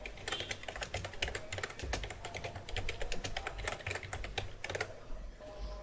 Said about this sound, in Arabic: لا، هنا اقدر اكتب